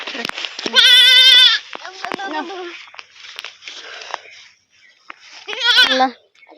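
Goats brought onto a rooftop, with two kids among them, bleat loudly in two bursts: a long harmonic cry near the start and another near the end, with a person talking in between.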